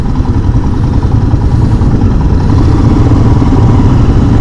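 Royal Enfield Himalayan (2022) motorcycle engine while riding through the city, a loud, close, low-pitched rumble with a steady thumping texture, continuous and without speech.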